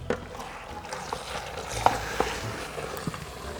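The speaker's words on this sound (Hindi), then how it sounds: "बस मैंने इसको मिक्स करना है गोश्त के साथ" Beef is stirred into fried spices and browned onions in a pot, a soft close scraping and stirring with faint sizzle and a few sharper clinks of the spoon, steady and fairly quiet.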